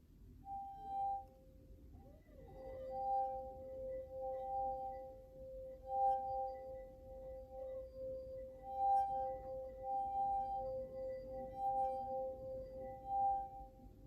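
Musical glasses, their rims rubbed to sing, give pure sustained ringing tones, two pitches swelling and fading in slow repeated strokes, quiet and near, with no talk.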